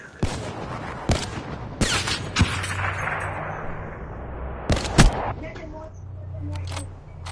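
Gunfire in a PS4 shooter: several sharp, loud broadband shots spaced irregularly across a few seconds, with a low rumbling game background and occasional voices between.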